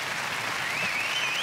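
Brief burst of studio audience applause at a German TV show: dense, steady clapping throughout with a thin whistle rising over it midway.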